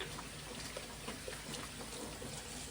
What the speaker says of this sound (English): So I'm just gonna wash my hands.